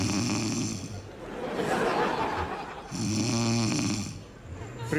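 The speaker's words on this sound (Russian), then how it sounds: "Слышали, как храпит корова?" A sleeping Aberdeen cow snoring on a village farm in winter, two slow, drawn-out rasping snores separated by a pause, fairly close and quiet, with a voice audible faintly in between.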